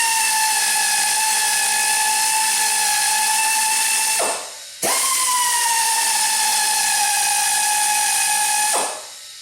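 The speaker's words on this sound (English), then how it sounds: "let me go ahead and get the air hose hooked up and we'll get this drilling" High-pitched whine of an air drill boring into a Romeo cylinder head for a Calvan 38900 insert, running steadily in two long bursts, each ending as it winds down.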